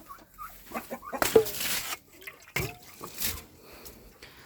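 A bantam hen sitting on her eggs gives soft, close clucks in irregular short bursts, with faint dripping water and rustling around her.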